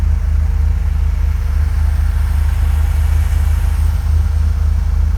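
1980 Corvette V8 running at a steady, loud rumbling idle close by, the low throb continuous and even across the few seconds with no clear rev spikes and no voices.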